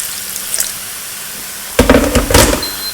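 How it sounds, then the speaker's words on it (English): Water is poured into a thickening cottage pie filling in a pan, a brief sizzling, bubbling splash that rises suddenly after quiet stove hiss and lasts about a second. "I'm going to add some more water"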